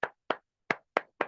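Sparse hand claps from an audience at a training session, five separate claps spaced irregularly over about a second, close and moderately loud with silence between them.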